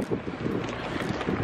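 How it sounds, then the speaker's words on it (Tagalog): Gusty wind buffets the microphone in Melbourne, producing low rumbling thumps and roaring bursts throughout, close and fairly loud. "Nainis ako sa hangin."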